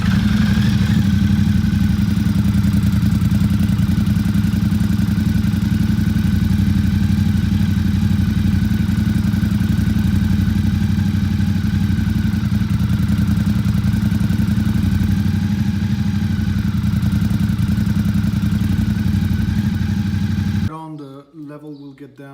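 A Ducati XDiavel motorcycle engine idles steadily after starting, a loud, close, continuous low rumble with mechanical clatter that holds for about twenty seconds before cutting off abruptly.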